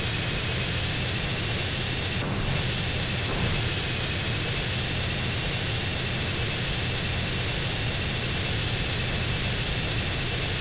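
Aircraft engines in the video game GTA San Andreas roar as a loud, steady, unbroken drone that fills the whole stretch without pause, with no talking.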